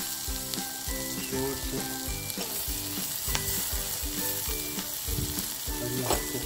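Tomatoes go into a sizzling pan for dal fry, with continuous frying hiss and rhythmic stirring clatter close by. A single brief word is spoken.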